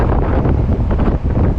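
Strong wind buffets the microphone in a loud, continuous low roar with no voices.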